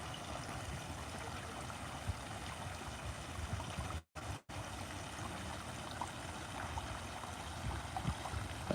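A garden landscape waterfall splashes and trickles in a soft, steady wash of water, fairly faint, with two brief dropouts in the middle.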